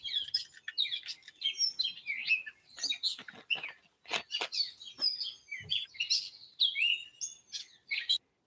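Many small birds chirp and tweet in a sunny garden, a dense, continuous stream of high, quick calls close by with no talk over them.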